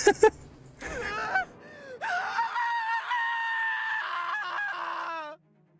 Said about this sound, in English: scream rang loud and clear in my ears